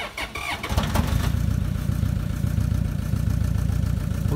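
A car engine with a cracked piston idles roughly at close range, a steady low uneven chugging after a brief rattly start, with no talk over it.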